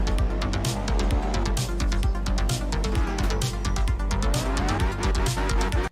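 A rally car in a video game trailer drifts at full throttle, its engine roaring steadily with rapid gear shifts and tire noise, loud and continuous with no voices.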